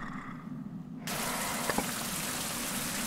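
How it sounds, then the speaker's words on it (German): Steady rain in the survival video game Fountain of Youth, a dense hiss that starts abruptly after a quiet second and then holds at an even level with no talking. "Jetzt regnet es wieder."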